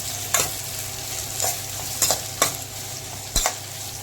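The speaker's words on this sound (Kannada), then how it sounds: "ಇದನ್ನು ಸ್ವಲ್ಪ ಚೆನ್ನಾಗಿ ಬಾಡಿಸ್ಕೊಂಡು ಕ್ಯಾಬೇಜು ಈಗ ಚೆನ್ನಾಗಿ ಬಾಡಿದೆ" Onions and shredded cabbage sautéing in a pan, a low sizzle punctuated by several sharp scrapes and stirs of a spatula at irregular intervals.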